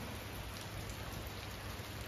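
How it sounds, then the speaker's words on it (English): Steady rain pours down during a storm with wind and thunder warnings, a dense, even hiss of drops on surfaces close by, continuous and alone with no voices. "How about it, Puddy Tat? You like that rain?"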